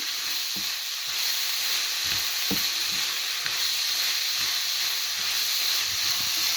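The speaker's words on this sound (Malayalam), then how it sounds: "നല്ലപോലെ ഒന്ന് ഇളക്കി വേവിച്ചെടുക്കാം" Carrot and cabbage sizzle in a pan for a Kerala cabbage thoran as a spoon stirs them, giving a steady frying hiss broken by irregular scraping clicks, close and with no voices.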